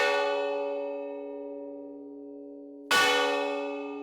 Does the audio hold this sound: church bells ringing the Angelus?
yes